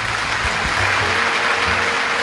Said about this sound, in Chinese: 掌声送给他们好不好